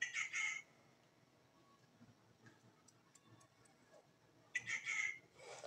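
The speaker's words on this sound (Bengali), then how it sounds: "আর শুনতে পাচ্ছেন কত সুন্দর পাখি ডাকছে বিকেলবেলা।" Birds call in the afternoon in two bright bursts of chirping, one at the start and one near the end, with a quiet stretch of faint background noise between them.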